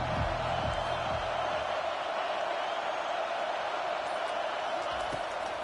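A large football stadium crowd roars steadily in a dense, continuous wash of cheering, loud and unbroken, with a few low thumps early on.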